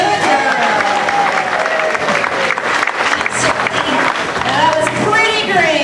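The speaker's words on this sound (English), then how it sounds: "make sure you give her a nice big round of applause for doing a great job" A crowd claps at a sea lion and dolphin show at Gulf World in Panama City Beach, rewarding a trained sea lion. The applause is loud and sustained, with an amplified voice and background music running through it.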